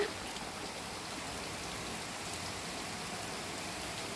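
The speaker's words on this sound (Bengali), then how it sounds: "বাইরে একদম মুসুল ধারে বৃষ্টি হচ্ছে" Heavy downpour falling outside a home, a steady dense hiss of rain that stays loud and even from start to finish with no voices.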